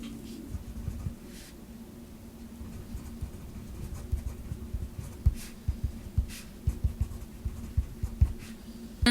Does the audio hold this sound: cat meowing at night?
no